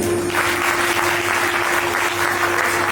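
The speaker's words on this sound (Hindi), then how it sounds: "एक बार जोरदार तालियां" An audience at a birthday celebration gathering in Dhar, Madhya Pradesh claps loudly, a dense, sustained round of applause with slight swells, over a low steady hum and no talking.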